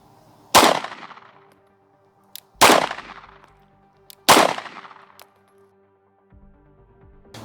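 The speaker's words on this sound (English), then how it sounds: "So we're going to do 3 shots at each one of our dots" Three pistol shots fired at a target on a range, sharp loud cracks about two seconds apart, each with a short ringing decay, and faint clinks between them.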